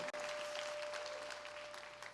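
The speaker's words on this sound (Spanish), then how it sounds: "¿Puedes darle el mejor aplauso al Rey de Reyes y Señores de Señores?" A church congregation applauds during a Tuesday worship service, steady broadband clapping filling the short stretch with no words spoken.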